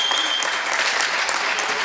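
Steady, dense applause from a crowd in the gym at a Ripley vs West Valley boys high school basketball game, filling the whole moment at close range with no break.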